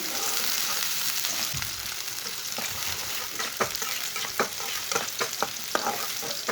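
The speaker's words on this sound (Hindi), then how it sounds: "प्याज को हल्का सा ब्राउन कर लेंगे।" Finely chopped onion fries in hot oil, a continuous loud sizzle with crackling pops and occasional stirring scrapes, close up with no voices.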